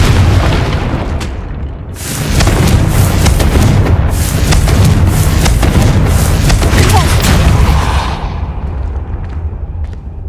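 Confringo blasting curse from a Harry Potter video game: a sustained, loud booming explosion with rumbling blasts that builds for several seconds and then tapers off.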